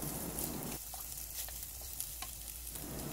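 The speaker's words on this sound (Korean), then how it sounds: "매운 고추하고 양파, 소금 조금 더 넣어서 이렇게 볶아주시면 맛있거든요" Julienned potatoes with hot pepper, onion and salt stir-fry in a pan, a dense steady sizzle with light scraping and clicks of the utensil, close up and without speech.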